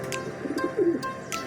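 Young racing pigeons coo during a training flight return in San Pablo, Laguna, with a few short close coos and soft flutters over a steady outdoor background.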